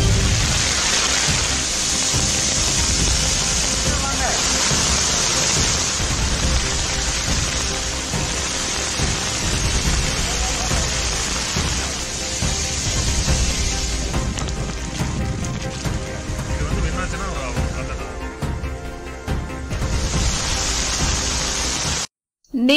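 Heavy southwest monsoon rain pours down in Pandalur in the Nilgiris, a dense, loud, continuous hiss of rain on surfaces that swells and eases slightly, with no talk.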